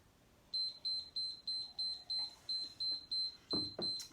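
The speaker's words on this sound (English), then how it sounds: "as soon as this timer stops beeping" A workout interval timer beeps in a fast, even series of about a dozen short, high electronic tones with a few faint knocks under the later beeps.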